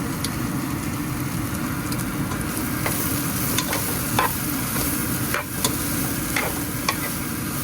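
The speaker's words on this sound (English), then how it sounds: "So in goes the onions, and then you want to saute it." Onions saute with browned Italian sausage in its own fat in a pan: a constant loud sizzle, close up, with occasional light stirring clicks and scrapes and no speech.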